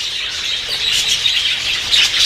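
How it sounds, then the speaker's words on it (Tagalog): Birds in a home aviary chirp and squawk close by, a busy overlapping chatter of high calls with some wing flutter, steady and fairly loud. "Ayun ho yung mga ibon natin."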